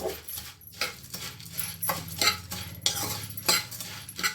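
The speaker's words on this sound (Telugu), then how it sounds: "ఇప్పుడు దీన్ని ఇలా బాగా మిక్స్ చేయాలండి" A spoon scrapes and clinks against a bowl as a snack mixture is stirred, giving bursts of metallic chinks and gritty rustling in an uneven rhythm, close and fairly loud.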